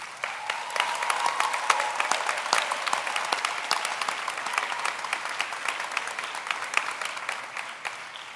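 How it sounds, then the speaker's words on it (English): Sustained audience applause at a 2021 high school graduation ceremony in Abu Dhabi, a steady wash of many hands clapping that keeps going evenly throughout, moderately distant and without speech. "they deserve a huge round of applause, the class of 2021"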